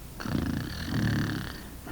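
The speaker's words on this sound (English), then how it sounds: "Soon Bert was snoring," On a Sesame Street story tape, a single drawn-out snore rumbles in a low, raspy breath, close and fairly loud, with no talking over it.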